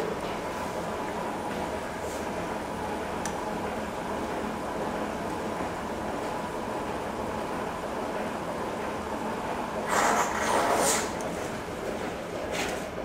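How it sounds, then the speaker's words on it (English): A steady rushing, gurgling flow of wine draining out of a barrel runs continuously at moderate volume, with a brief louder splashing surge near the end. "you would also rack it out of barrel, and you can hear it start emptying a bit there."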